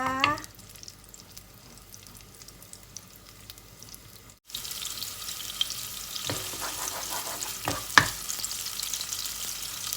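Shallots sizzling in a frying pan for a whole-wheat spaghetti with fish sauce, a soft steady crackle that jumps louder midway as more goes in, with a few sharp stir clatters and pops.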